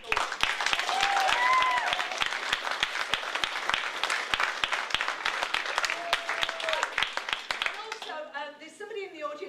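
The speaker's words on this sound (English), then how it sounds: "can we give Sean and Nick a fabulous round of applause on the technical?" Audience applause fills a presentation hall, dense clapping mixed with voices and a few whoops, then fading into scattered chatter near the end.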